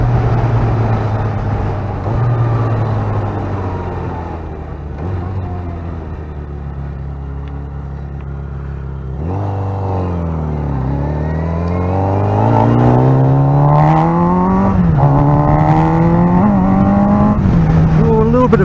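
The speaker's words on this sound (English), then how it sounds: "Third gear pull." A motorcycle pulls hard through third gear, its engine rising in pitch from a low drone into a strained, climbing roar. It is close and loud and runs continuously for the whole stretch.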